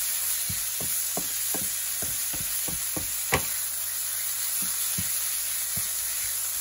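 Thai holy basil leaves frying in vegetable oil, a steady bright sizzle with a regular series of soft knocks from a utensil against the pan, close and clear, with no voices.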